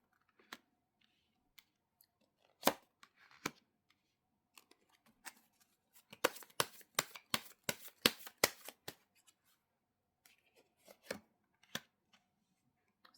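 Tarot cards shuffled and flipped open during a reading, a quiet close series of crisp card snaps and riffles, scattered at first, then a quick rhythmic burst, then a few last taps.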